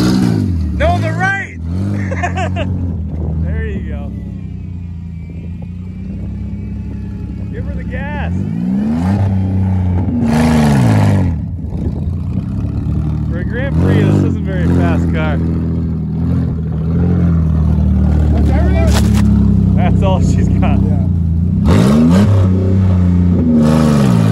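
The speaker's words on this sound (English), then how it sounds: "we want reverse donuts and turn your wheel to the right" A Chevrolet lowrider car revs its engine while doing reverse donuts, a loud, sustained roar rising and falling with repeated throttle bursts beneath laughing and shouting voices throughout.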